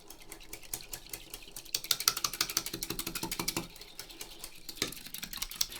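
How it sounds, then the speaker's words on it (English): Spoon stirring condensed milk and vanilla extract for ice lollies, a steady run of quick clicking, scraping strokes close up, getting busier partway through, with no talk. "And then we just give it a really good stir."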